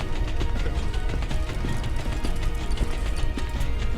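Rapid, steady footsteps in a video game patter continuously up close, with clattering mechanical noise layered over them and no talking.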